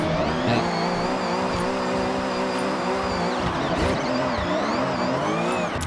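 A BMW M1 engine in Forza Horizon howls at high revs while drifting, the throttle blipped on and off in a steady wavering drone with pitch swings and faint tyre squeal, close and loud with no talk.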